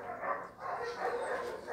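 Griffon puppies for sale bark and yip in quick, high little bursts, a faint, continuous chorus of small dogs without talk.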